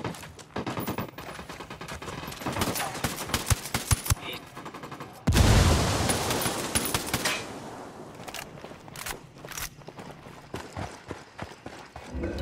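Rapid gunfire in Ghost Recon Wildlands, with steady bursts of shots, then a loud heavy blast that decays slowly before sparser shooting resumes, close and dense.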